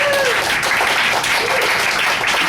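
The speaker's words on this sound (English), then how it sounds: "Big round of applause for Joe." A comedy club crowd at a roast at Cafe Diem in Richmond gives a loud, sustained round of applause, a thick unbroken wash of clapping with a few voices in it.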